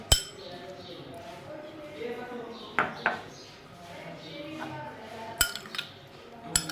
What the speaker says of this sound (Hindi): अब चम्मच से इसे मिक्स कर लेंगे ताकि इसको कलर आ जाए